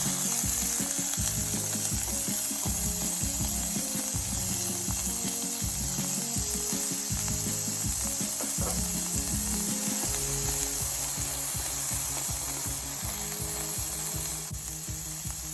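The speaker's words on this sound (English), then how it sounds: "And now I will put all the vegetables in." Vegetables and garlic fry in a pan with a loud, continuous close sizzle, broken by rhythmic scraping and stirring strokes throughout.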